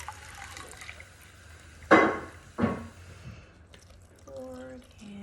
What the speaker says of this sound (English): we're going to put in our 1 cup of water